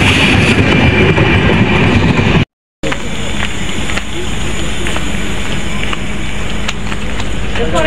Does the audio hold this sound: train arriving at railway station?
yes